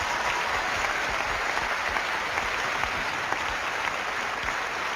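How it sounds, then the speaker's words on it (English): Steady, dense audience applause fills the room at a live paranormal TV broadcast on a summer solstice night, a broad even wash of many hands clapping with no talk over it. "Give him a round of applause."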